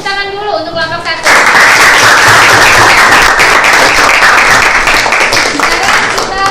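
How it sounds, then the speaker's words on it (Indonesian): A classroom audience applauds a discussion group, quick dense clapping that swells in suddenly and holds steady at close range. A voice speaks briefly just before it starts. "Kita beri tepuk tangan dulu untuk kelompok 1."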